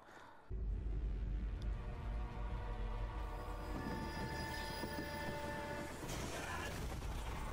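Train in the Zombie Army 4 video game rumbling in after a sudden start, a steady low heavy roll with tonal horn-like hums layered above and a brighter surge near the end, no talking.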